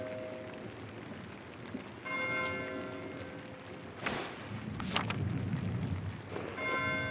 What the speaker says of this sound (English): Why is Matthew ringing the bell?